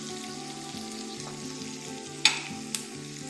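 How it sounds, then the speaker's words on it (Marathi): Ginger-garlic paste and turmeric sizzle steadily in hot oil for batata vada, a continuous frying hiss with a low hum underneath and two sharp stirring clacks near the end. "आणि हे सगळं थोडंसं परतून घेणार आहे म्हणजे याचा जो कच्चा वास आहे तो निघून जातो"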